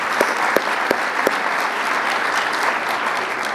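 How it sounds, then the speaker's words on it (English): An audience at a poetry night for Palestine applauds the conference organizers: a few sharp early claps swell into dense, steady clapping that fills the room, with no talk over it. "I think a big round of applause goes to you"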